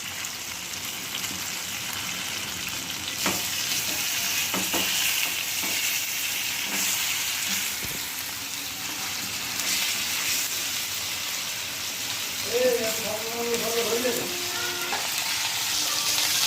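Paneer cubes frying in oil in a pan, a soft continuous sizzle with occasional stirring clatters and a brief scraping near the end, no voices.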